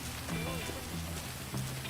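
Rainfall in GTA V patters as a steady, dense wash over a roleplay scene, with low tones underneath and no clear words over it.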